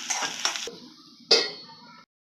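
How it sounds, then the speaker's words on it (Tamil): Onions sizzle in ghee in a pan with brief stirring scrapes, a burst of hissing midway, then sudden quiet; close and fairly loud, no voices. "நல்லா ரோஸ் ரோஸ் ஆகிற வரைக்கும் வெங்காயத்தை வறுத்துடலாம்"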